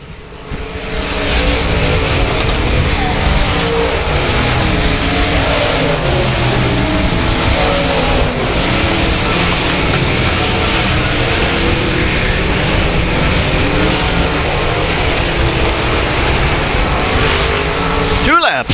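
Race cars roar around South Texas Speedway in a continuous loud, dense engine drone, with a commentator talking over the pack throughout.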